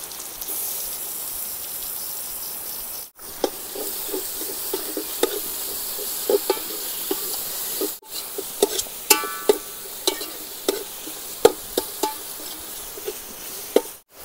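Chicken with ginger garlic paste frying in a pan at an outdoor picnic near a waterfall, a steady close sizzle with scattered crackles and pops and short stirring clatters, no voices.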